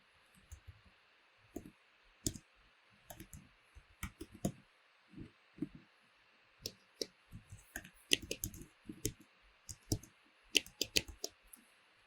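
Keys tapped on a computer keyboard while writing code, a scattered run of light clicks with brief pauses between bursts, fairly close and quiet, no talking.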